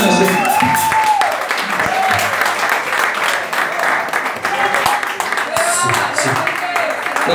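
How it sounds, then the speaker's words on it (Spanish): Loud party crowd applauding at a birthday celebration, dense clapping and cheering with voices and a sung tone mixed in throughout. "Los aplausos para mi madre, sí."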